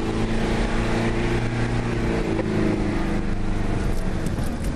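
A car pushes through a slush patch in second gear on a test track, its engine a steady, loud drone with a rushing, spraying wash over it throughout.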